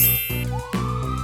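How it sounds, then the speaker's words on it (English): A toy police car's siren sound effect, loud and close, with an electronic wail that dips and then sweeps upward again in one short burst. "Police car."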